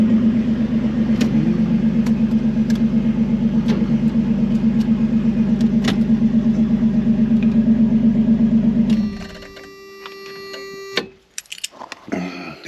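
The custom Inferno project vehicle's unmuffled engine idles close and loud with a steady, rapid pulsing rumble for about nine seconds, then shuts off into quieter mechanical clicks and a few knocks.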